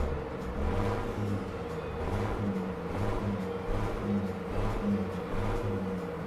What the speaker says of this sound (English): Love just hearing it rev.